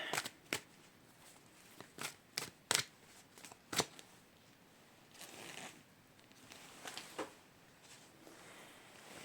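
A goddess oracle card deck is shuffled by hand in a quiet room, with several short, crisp riffling bursts and sharp snaps spaced unevenly, followed by softer, looser shuffling toward the end.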